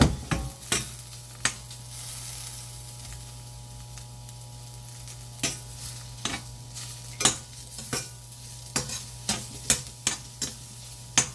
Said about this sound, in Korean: 버섯은 약간 센 불에 빠르게 볶아주시면 되고요